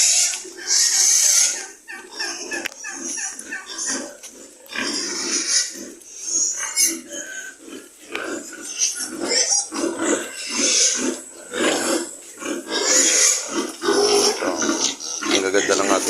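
Native farm pigs, including an old boar, grunt and squeal repeatedly close by in bursts, mixed with someone talking throughout.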